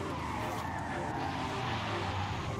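Car tyres skid and squeal steadily under a handbrake pull in the Forza Horizon 5 racing game, a continuous loud screech over engine drone with no pause.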